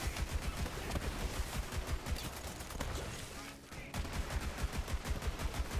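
Rapid automatic fire from the Companion gun in Borderlands 3, a dense rattling stream of shots with one brief pause before the firing resumes, loud and continuous throughout.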